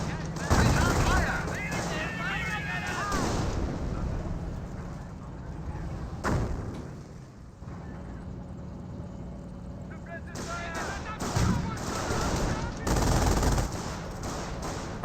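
Gunfire in the Company of Heroes real-time strategy game, with rattling machine-gun bursts and heavier artillery-like thuds in irregular clusters, mixed with game voice lines and battle ambience.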